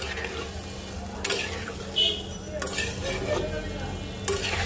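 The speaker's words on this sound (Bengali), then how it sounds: "এবার সবকিছু একসাথে সুন্দর করে মিক্স করে দেব।" Fried new potatoes, cauliflower and spices are stirred in hot oil with a little water while cooking an aar fish curry, giving a steady sizzle broken by a few sharp scrapes of the spoon against the pan.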